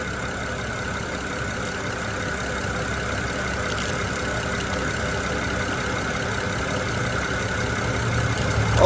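A 2010 BMW 535i engine idles steadily at close range while it warms up during coolant bleeding, a constant even hum with a faint tonal whine and no talking.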